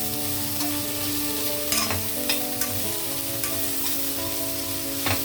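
Rice mixed with turmeric and salt is stirred in a pan, a soft continuous sizzle with a few distinct ladle scrapes and knocks against the metal, close and fairly quiet, under a faint steady hum.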